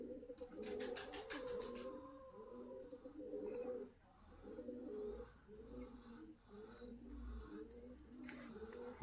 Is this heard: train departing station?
no